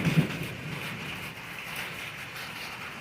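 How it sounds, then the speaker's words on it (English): Rain begins falling during a severe thunderstorm outbreak at night, a steady soft hiss of drops with a faint low rumble, continuous and moderately quiet throughout with no talking. "Alright, it's starting to rain"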